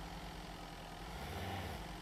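A car engine idles steadily in the Mist Survival survival game, a low continuous rumble that holds level for the whole stretch with no voices over it.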